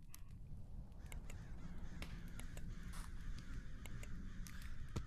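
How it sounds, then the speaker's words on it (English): Crows cawing in a modded video game, a few short harsh calls scattered over a steady low background rumble, fairly quiet. "those birds just scared the crap out of me."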